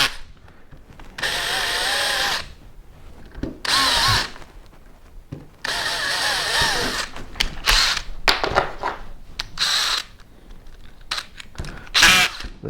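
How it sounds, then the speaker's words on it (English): A power drill drives while rigging a homemade styrofoam fishing kayak, whining in several loud close bursts, followed by a rapid series of short clutch clicks and stutters. "I didn't think about the noise the clutch on my drill makes."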